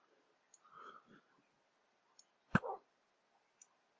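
Tamed wolves in the video game Minecraft, with short soft barks and whimpers near the start and one sharp louder bark around the middle, separated by quiet clicks.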